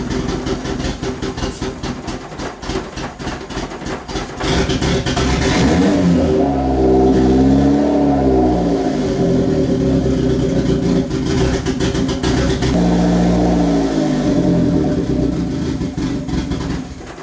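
A car engine fitted with a homemade turbo setup, burning oil, cranks and catches, then revs hard in rising and falling sweeps, loud and close with no talk.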